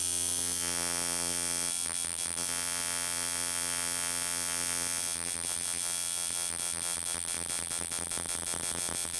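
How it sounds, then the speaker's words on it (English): A tattoo machine runs softly during grey wash skull shading, giving a steady electric hum with layered harmonics and faint buzzing pulses, continuous and close throughout. "You can hear the machine is running really soft, so that allows me to go over and over the same place again and again"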